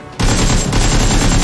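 Gunfire in the battle royale shooter PUBG, a dense, loud, continuous burst that starts abruptly after a brief quiet moment and keeps up without a break to the end.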